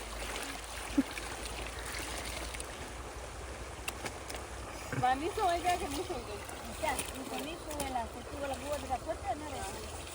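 Village river water flows and laps while clothes are washed outdoors, a steady watery wash running throughout as people talk over it in the second half.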